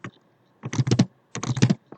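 Bursts of keyboard typing on a computer while writing HTML entity code, two clear clusters of rapid key clicks separated by short pauses, close and alone.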